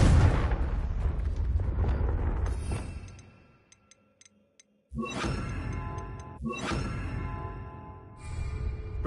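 The Confringo blasting curse goes off in Hogwarts Legacy with a loud rumbling explosion that fades into near silence with faint ticking, then two more sharp blasts with long decaying rumbles follow.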